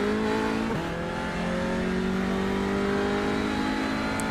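A TCR touring car in the iRacing sim, its engine droning steadily at high revs with a quick gear-shift dip early on, then a continuous strained tone, loud and alone.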